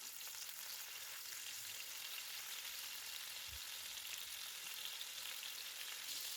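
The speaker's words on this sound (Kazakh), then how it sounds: "Содан соң етімізді салып, етіміз қызыл түске енгенше жақсылап қуырып аламыз." Meat frying in hot vegetable oil in a pot while it browns for an Uzbek-style soup, giving a steady, even sizzle and crackle throughout with one soft low thump partway, no voices.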